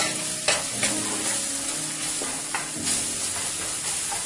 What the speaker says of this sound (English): we add in the coriander and quickly saute.